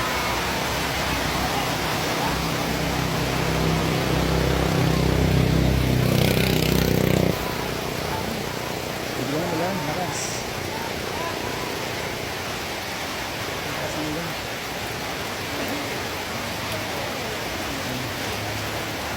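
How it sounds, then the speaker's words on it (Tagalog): Heavy rain pours steadily at the Lourdes grotto as a broad, constant hiss, louder during the first seven seconds and then continuing evenly without a break. "Grabe maulan."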